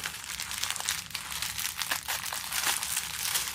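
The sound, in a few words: crinkly gift packaging being squeezed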